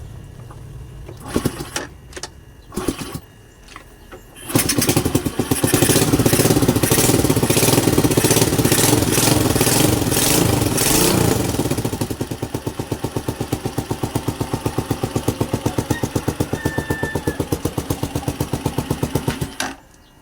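A Rusi 125cc motorcycle engine cranks a few times, then fires and runs loudly and steadily, settling into a rhythmic idle that cuts off at the end.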